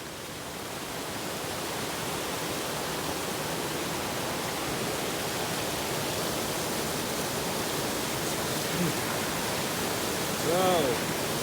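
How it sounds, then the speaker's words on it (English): A swollen creek rushes through the Shining Rock Wilderness in North Carolina, a loud, continuous broadband roar of water close by, with a brief faint tonal sound near the end. "The creek has been a bit risy."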